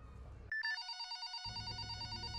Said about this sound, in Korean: 담임 교사는 하이롱의 어머니인 제풍지에게 전화를 걸어 그녀에게 더 자세히 물어보았습니다